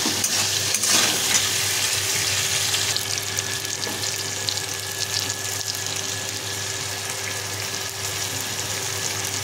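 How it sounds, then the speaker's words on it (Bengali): Garlic fries in hot oil in a pan for a Bengali spinach and hilsa head dish, giving a loud, continuous close sizzle with a faint stirring scrape and no talking. "রসুনটা একটু ভাজা ভাজা হয়ে যাবে"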